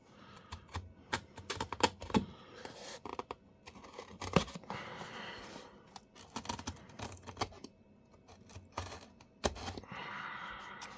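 Scissors snip and scrape through a cardboard box in a quiet room, a run of short crisp cuts and rustles with uneven pauses, close and fairly soft.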